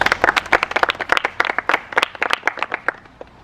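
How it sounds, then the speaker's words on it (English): Contestants at an outdoor challenge-show final clap together, a small group's sharp, distinct claps in quick succession for about three seconds, tapering off at the end. "Give yourselves a round of applause."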